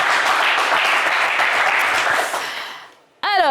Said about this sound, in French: mon cher Prince, on vous applaudit bien fort.